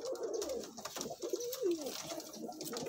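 Golden pigeons at a bird sale coo in soft rolling calls, several overlapping, close but quiet with no speech.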